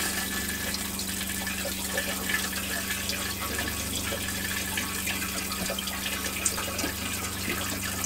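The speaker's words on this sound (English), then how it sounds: "we'll just run the toilet now." Water runs into an RV toilet in a Coachmen camper, a steady, continuous hiss and gush that stays even throughout with a low hum underneath.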